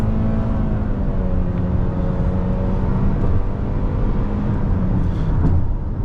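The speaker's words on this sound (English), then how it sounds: "As far as a 4-cylinder engine in a Toyota goes, I like this one actually. It's a little coarse." A Toyota Corolla Cross four-cylinder engine with a CVT pulling steadily from inside the cabin, a coarse continuous drone with a sustained low hum and road noise, no talking.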